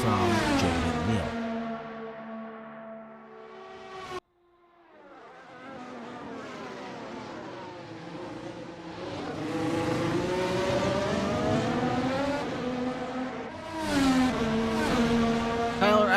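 Race cars at Spa in a sim racing league broadcast, engines droning and shifting pitch as they rev and change gear, one car cutting out briefly before others climb back in, steady and fairly close without commentary.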